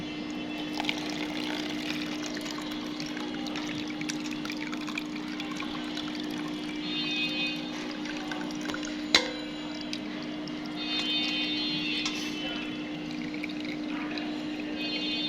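Milk that has been boiled down thick is poured through a strainer, giving a steady soft liquid trickle and splash against a constant low hum, with one brief sharp clink midway.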